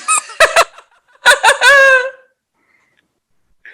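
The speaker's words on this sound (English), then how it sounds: "And they squeak. Oh my. I thought that you were squeaking. What the? They're dog toys." Squeaky llama-shaped dog toys squeezed in a few quick bursts, sharp high rubbery squeaks in two clusters, the second ending in a longer drawn-out squeal, close and loud with no talk over them.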